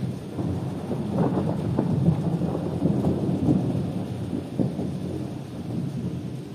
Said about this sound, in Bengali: আর কি বৃষ্টি হচ্ছে গাইস, কি বলবো।